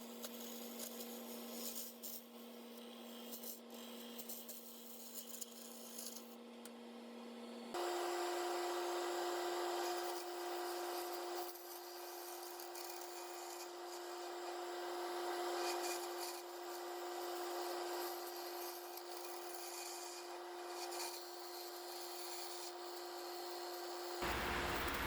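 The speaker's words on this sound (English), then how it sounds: "This is the Jimmy Clues mate tool. This is made for hollowing, but it worked pretty well on this application." A wooden lamp blank spins on a lathe while a Jimmy Clewes hollowing tool cuts it, giving a steady tonal hum that steps up in pitch partway through under continuous close scraping and rubbing, with no talking.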